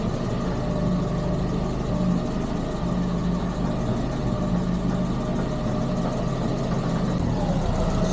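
A Renault R8 Proto engine idles on a dyno with a steady, even low rumble that holds for about eight seconds, loud and close, with no revving.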